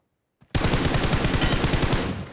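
A close, loud burst of automatic gunfire in the PUBG Mobile video game rattles continuously for about two seconds after a brief moment of quiet, with no voices over it.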